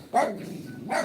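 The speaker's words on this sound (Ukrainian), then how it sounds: "Не гавкай." Two short dog barks, close by, with a brief pause between them and no talking.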